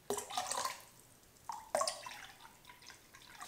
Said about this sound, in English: Next, we're going to add some aloe vera juice,